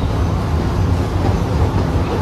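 A train moves along the rails, heard from inside as a loud, steady low rumble of wheels and carriage with faint rhythmic clatter.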